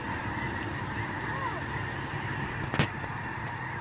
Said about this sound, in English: There are birds everywhere.